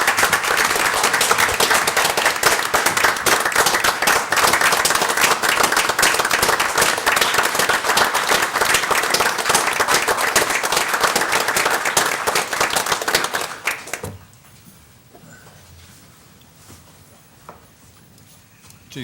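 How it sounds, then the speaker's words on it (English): Dense applause from the audience at a city council meeting, loud and steady for about fourteen seconds before stopping abruptly into a quiet room. "they're very deserving of a round of applause for their accomplishments"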